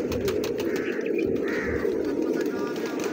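Pigeons offered for sale in Bahawalpur coo softly and repeatedly close by, under a steady background hum with people talking nearby.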